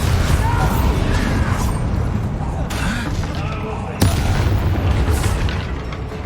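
Heavy, rumbling blasts from the Bombarda blasting spell in Hogwarts Legacy, sounding as a dense, continuous roar with a sharp burst partway through, loud and close.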